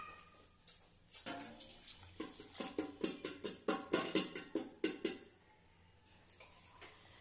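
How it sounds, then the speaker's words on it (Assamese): Water poured into a pan of simmering tomatoes for an Assamese fish curry with cauliflower, a run of splashing, gurgling bursts building over several seconds, then easing off, close and fairly loud with no talk. "মোৰ বিলাহীখিনি সিজি সিজি গৈছে মই এতিয়া পানী অলপ দিম জোখ অনুসৰি"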